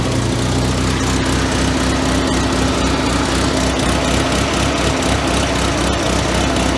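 A 1985 Merkur XR4Ti engine idling with a radiator cooling fan fault, a loud, steady droning hum that runs unbroken and close throughout.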